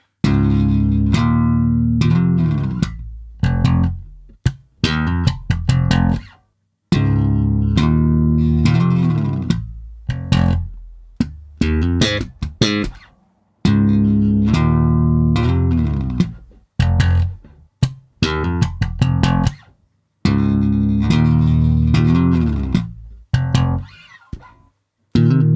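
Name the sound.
guitar double-stop lick played slowly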